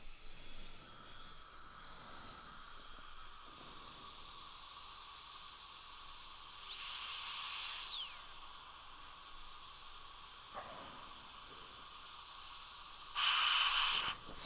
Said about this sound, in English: I'm going to use a 330 carbide for that.